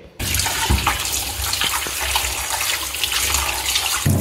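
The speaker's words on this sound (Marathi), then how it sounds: "मटण आता आपण धुवून घेऊया स्वच्छ।" Mutton being rinsed clean under a running kitchen tap, a steady loud gush of water splashing into a sink that starts abruptly and runs continuously, with occasional thuds of handling and no voices.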